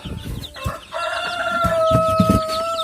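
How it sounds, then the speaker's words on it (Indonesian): Ayam Ketawa chickens, young birds and hens kept together, clucking close by with a sustained, tonal crowing call drawn out over the clucks. "Ini anakan ayam ketawa dari sekian betina ya."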